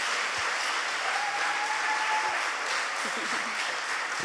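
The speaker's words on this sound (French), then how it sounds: "je vous propose de les applaudir à nouveau pour cette présentation très riche" Steady applause from a conference audience at a MoodleMoot session, a dense even patter of many hands clapping throughout without a break, with faint murmuring underneath.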